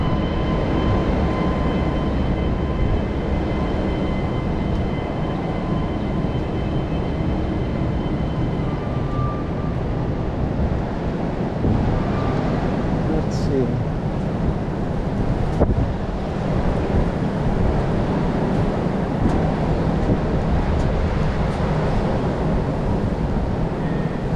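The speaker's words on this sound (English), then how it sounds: "The wind has picked up again." Wind gusts buffet the microphone on a Financial District street in New York City near the East River, making a continuous loud broadband roar that runs the whole time.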